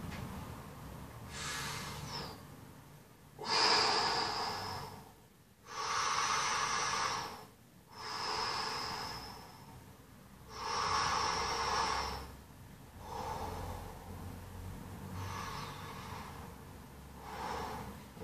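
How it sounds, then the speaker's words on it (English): Slow, deep belly breaths, several long inhales and exhales in a steady rhythm, close and quiet with pauses between each breath. "when you're breathing in, trying to push the air towards your belly and filling your belly"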